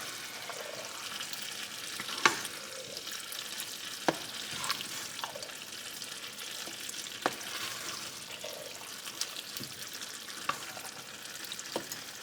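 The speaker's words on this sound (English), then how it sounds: "Now we're just going to mix it all up." A quiet, continuous simmer from chili with beans and tomato paste in a pot, with occasional sharp spoon clinks and scrapes as it is mixed, close but soft.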